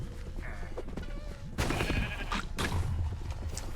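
Sheep bleat in the Minecraft Dungeons video game, Creeper Woods level, as a few loud, wavering calls over a dense, continuous game soundtrack and effects.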